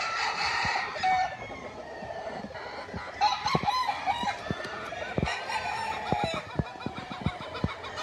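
Several roosters crow on a farm in the Philippines, long overlapping calls near and farther off, with hens clucking and sharp pecking or tapping sounds throughout.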